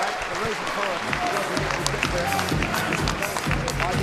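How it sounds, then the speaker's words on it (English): A crowd at a ringside fight event claps and murmurs in a large room, with voices and scattered shouts mixed into steady applause. "Give them both a big applause"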